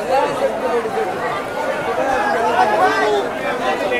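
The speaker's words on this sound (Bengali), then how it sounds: "আর মারাত্মক লেভেলের ভিড়।" A dense crowd of passengers chatters steadily at a train station, many overlapping voices forming a continuous, fairly loud hubbub with no single voice standing out.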